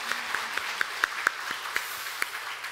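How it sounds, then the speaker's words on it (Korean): A church congregation claps to welcome a new pastor at a Sunday service: scattered, uneven handclaps with a few sharper claps standing out over a soft room wash, moderately distant, with no talk. "우리 박수로 환영하도록 하겠습니다."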